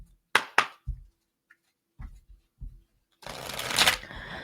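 Tarot cards being shuffled by hand, a few sharp riffling snaps and soft taps, then a longer, louder riffle shuffle closing the sequence, close and clear.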